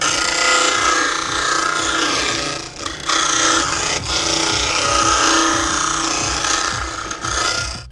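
A Harbor Freight 12-inch disc sander grinds against a piece of hardwood, a loud, steady abrasive whir and rasp up close, with a couple of brief dips as the wood is shifted against the disc.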